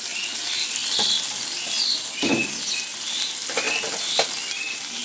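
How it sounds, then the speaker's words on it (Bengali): Shrimp frying gently in a pan over low heat, a steady close sizzle with light spattering and a few stirring clicks, no voices. "এবার চিংড়ি মাছ কটা হালকা করে ভাজবো"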